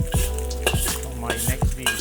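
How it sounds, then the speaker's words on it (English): Oil sizzles in a wok while a utensil stirs and clinks against the pan in a few sharp, close strikes over the continuous frying hiss. "need to hear this sizzle a little bit"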